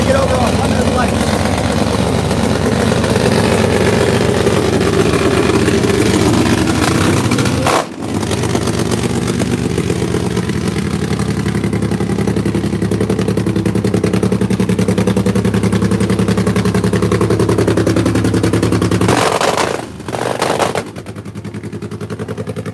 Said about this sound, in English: one more Nitro Funny Bike coming up